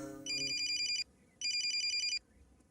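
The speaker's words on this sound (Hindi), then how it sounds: "फोन आ रहा है" A telephone rings in two clear electronic bursts, each about a second long, separated by a short pause.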